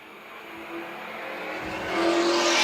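Vintage race cars of the Palmetto Vintage Racing Association coming off turn four at Dillon Motor Speedway, a short track in Dillon, South Carolina, engines droning and swelling louder as they approach, no talk.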